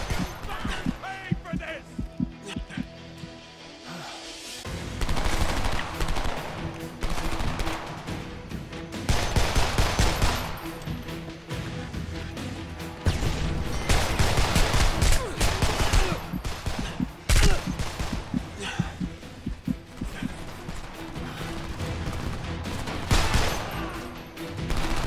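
Homefront semi-automatic rifle fire comes in loud, close bursts of separate shots across a battlefield, with pauses between volleys and a voice talking amid the shooting.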